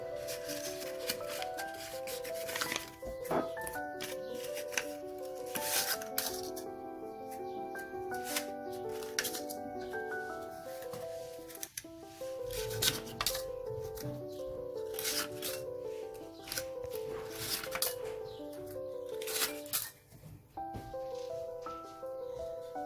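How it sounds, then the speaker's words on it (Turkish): Paper muffin liners are rustled and pressed into a muffin tin for a lemon muffin recipe, giving soft crinkling and rubbing sounds with light taps, quiet and close, over faint background music. "muffin kağıtlarımızı muffin kalıplarımızın içerisine yerleştirdik."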